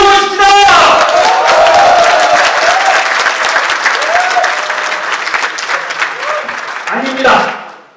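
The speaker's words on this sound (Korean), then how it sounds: "우리 모두를 위해서 우리 큰 박수와 큰 함성 질러보십시다" A large audience of social workers at an association election rally bursts into loud, dense applause mixed with cheering and shouts, sustained for several seconds before tapering off at the end.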